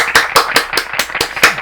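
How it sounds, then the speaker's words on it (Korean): Hands clap close by in a steady, even rhythm, about eight sharp, loud claps in under two seconds with no other sound. "와, 박수 한번 쳐야 되겠네요."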